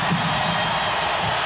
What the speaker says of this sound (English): And again, the crowd comes to life.